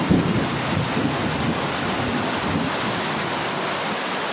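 Heavy rain pouring during flooding at barracks, a loud dense steady hiss of downpour with low rumbling beneath, continuous and close.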